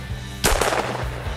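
A single sharp shotgun blast rings out during a quail hunt, followed by a rolling echo that fades over about a second, with lighter rustling around it.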